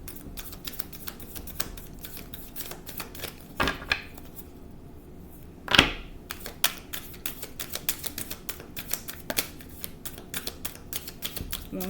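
A tarot deck is shuffled by hand, giving rapid, dense clicking and flicking of cards with a couple of louder slaps, close and fairly clear over a quiet background.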